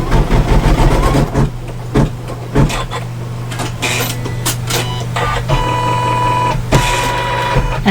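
Embroidery machine stitching elastic onto an outline, a steady mechanical hum and rapid needle chatter running close and loud through most of the stretch, broken by a few clicks and a brief stop-start.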